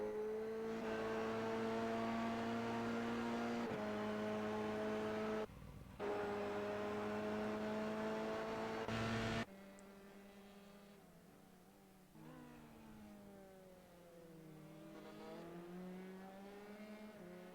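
A Formula Regional Americas race car in an SCCA Pro race accelerates out of the pits after a tire change, its engine loud and close with steady high-pitched tones, then drops away as it pulls off and revs through gears farther off.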